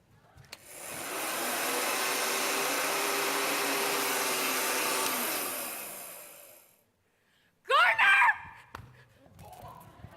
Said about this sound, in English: To the hair dryer.